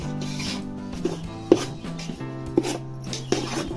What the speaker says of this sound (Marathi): आता एकसारखा हलवून असा लाल सर होईपर्यंत असा रवा भाजून घ्यायचा आहे